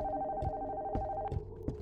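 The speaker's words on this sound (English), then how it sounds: "I'm getting a phone call." A telephone rings with an incoming call inside an ordinary house in a horror game, repeated bell bursts sounding over a steady tonal hum, close and clear, with no voices.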